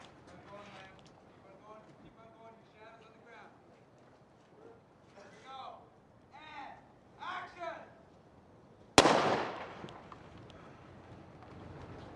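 A single loud prop gun blast cracks out on a film set after a stretch of slate calls and talk, the sharp shot standing out sharply from the surrounding voices.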